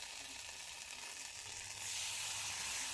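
Black cumin and a green chili fry in hot mustard oil, giving a close, steady sizzle and hiss that grows louder partway through, with no talking.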